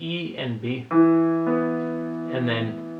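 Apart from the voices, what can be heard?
No distinct noise like a dog, phone or traffic.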